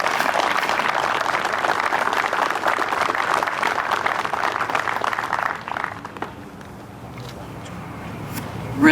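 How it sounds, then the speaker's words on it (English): An audience applauding at an opening ceremony: loud, steady clapping from a crowd that fades out after about six seconds into quiet room noise and scattered movement. "Let's give a round of applause"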